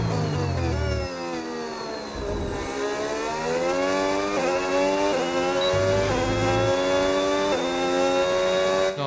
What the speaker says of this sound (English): this engine sounds pretty good